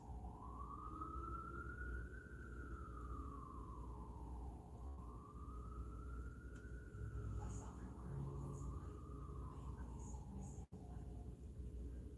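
A siren wails up and down in slow sweeps, somewhat distant, over a steady background rumble.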